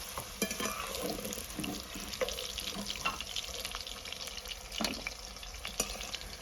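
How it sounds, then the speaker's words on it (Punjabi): Turnips frying in hot oil for a chilli salgam dish, a steady close crackling sizzle with scattered sharp pops and clicks throughout, no voices. "ਦੇਖੋ ਸਲਗਮ ਆਪਣੇ ਚੰਗੀ ਤਰ੍ਹਾਂ ਫਰਾਈ ਹੋ ਗਏ ਹੁਣ ਇਹਨਾਂ ਨੂੰ ਆਪਾਂ ਕੱਢ ਲੈਣੇ ਤੇਲ ਤੋਂ ਬਾਹਰ"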